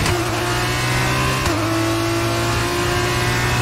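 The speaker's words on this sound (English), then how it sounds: "He's back onto the throttle." Formula One car engine in F1 22 at Silverstone, climbing under throttle after a downshift to third, a loud steady high-pitched whine that holds continuously for several seconds with no talk.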